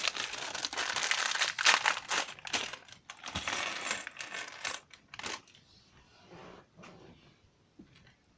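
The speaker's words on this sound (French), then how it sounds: "On va mettre, je pense, un sachet de pièces juste ici." A bag of LEGO Ninjago pieces rattles, crinkles and spills out in a busy clatter that thins to scattered faint clicks.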